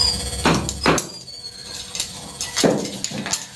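Four sharp taps from a small hammer leveling the edges of anti-slip floor tile, spaced in two pairs with quiet gaps between.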